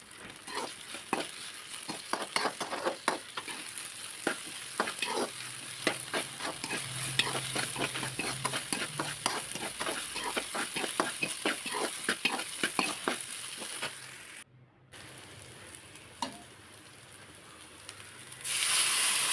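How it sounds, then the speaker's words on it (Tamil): Okra being sautéed in a pan for a Tamil-style tamarind curry gives a steady sizzle with frequent clanking stirs of a spatula, close and alone, then a brief drop in sound before the frying resumes. "போட்டுட்டு நல்லா கொஞ்சம் ஒரு 2 மினிட்ஸ் வந்து வதக்கி விடுங்க."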